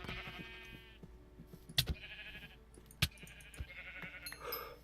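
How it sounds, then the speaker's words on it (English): Sheep in the video game Simple Life 2 bleat in a few wavering calls, moderately loud, over a low game ambience punctuated by a couple of sharp clicks. "the thing that most people forget about sheep is they are actually quite vicious little herd animals"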